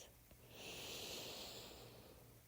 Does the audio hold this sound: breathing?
yes